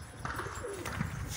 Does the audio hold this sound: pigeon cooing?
yes